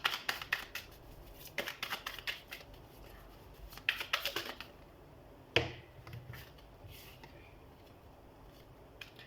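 Tarot cards are shuffled and laid out in quick, crisp bursts of flicking and slapping, fairly quiet and close, with pauses between clusters and a sharper card snap partway through.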